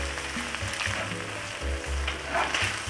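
Mushroom risotto simmering in a pan gives a soft steady sizzle and bubbling, close and continuous, with faint low hum beneath and no talking.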